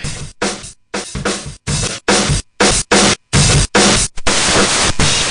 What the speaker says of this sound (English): we're going to use my favorite distortion unit on the face of the entire earth, which is the Blipvert 137